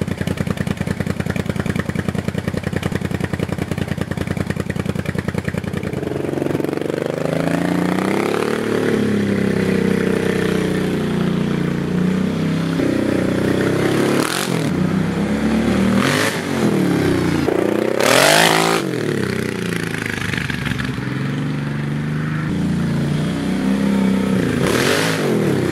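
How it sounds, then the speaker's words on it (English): A Kawasaki KFX700 ATV, its carburetors freshly cleaned, idles close by and then revs repeatedly while riding around a small yard, with the engine pitch rising and falling in strong surges and several sharp bursts of throttle. "Now I take it around the yard and see if it's running better."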